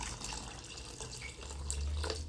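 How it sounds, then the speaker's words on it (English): Water pours steadily into a cooking pot while a fish curry is being made, a continuous splashing trickle that swells slightly toward the end, with no talking. "And I'm adding some water."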